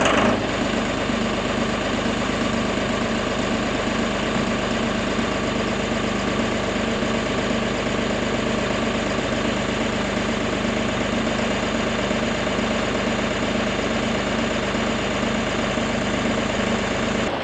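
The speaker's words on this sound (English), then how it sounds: "I gotta fire the tractor up and I gotta get hay." A farm tractor idles steadily and loudly outdoors in heavy snow, a constant low rumble with a faint knocking vibration and no other sounds.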